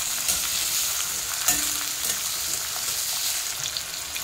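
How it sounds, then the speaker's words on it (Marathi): Tomatoes sautéing with browned onions in a pan for dhaba-style egg keema, giving a dense, even sizzle with a few soft stirring clicks throughout. "आता आपण त्याच्यामध्ये हे टोमॅटो टाकूया। चांगलं परतून घ्यायचे"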